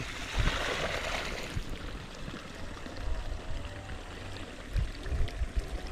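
Steady splashing and trickling of water being poured in a forest, with a few low thumps, fairly quiet and continuous throughout, with no voices.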